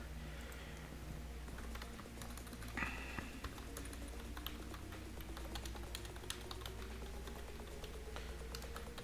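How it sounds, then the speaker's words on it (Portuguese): Credit card details are typed on a computer keyboard in rapid, irregular clicks that run continuously at close range, with a low hum underneath and a short brighter burst of keys partway through. "estou digitando juntamente com vocês aqui"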